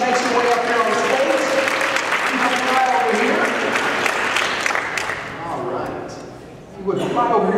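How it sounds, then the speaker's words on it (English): A theatre audience applauds and cheers loudly and steadily as a volunteer walks onto a magician's stage, the clapping dense and close before easing off, then swelling briefly again at the end. "Let's give her a big round of applause as she makes her way up here on the stage."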